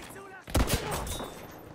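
A sniper shot in Battlefield V, one sharp loud report followed by a second crack and a rolling tail, with battlefield ambience and voices around it.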